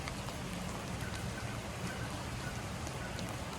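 Steady rain falls through forest tree cover along the Appalachian Trail, a dense, even hiss of drops pattering on leaves and surfaces, close and constant with no break throughout.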